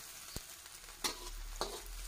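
Chopped shallots and garlic stir-fry in a hot pan for a Thai fermented-fish and egg dish, a steady soft sizzle broken by three sharp spatula scrapes.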